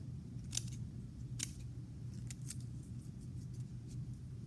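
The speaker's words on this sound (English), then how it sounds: "I'm going to cut another triangle. And this is called a fringe. I'm just going to cut it." Scissors snip through paper to cut a fringe for a paper cardinal craft, several crisp, close cuts at an uneven rhythm over faint low background hum.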